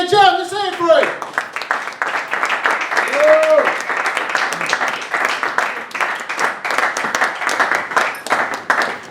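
An audience at a poetry night applauds and cheers the next performer, Jazman John. A voice speaks briefly at the start and sounds again over the clapping, and steady, full applause carries through to the end.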